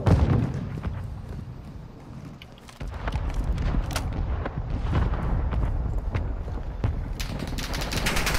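A frag grenade blast in Warzone 2.0 amid ongoing game combat: a deep boom after a brief lull, followed by continuous rumbling gunfire and scattered sharp reports.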